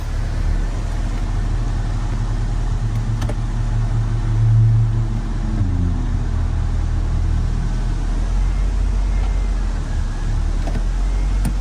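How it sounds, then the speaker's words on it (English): A Honda Civic with an automatic transmission idles in place to warm up, giving a low, steady engine hum with a brief swell partway through and a few faint clicks. "we'll let the car run for a little bit, kind of get it up to operating temperature."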